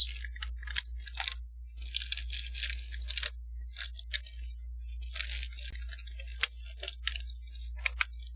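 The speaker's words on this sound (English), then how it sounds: "I'm trying to close this Tim Tam container package, but it's being kind of fighting you a little bit right now." A plastic Tim Tam biscuit container is squeezed and pressed shut, giving bursts of close crinkling and crunching with occasional sharp clicks and brief pauses.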